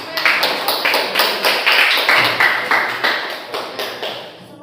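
Students in a classroom clap their hands in a quick, regular rhythm, each clap crisp and close, repeating steadily for several seconds with no talking over it.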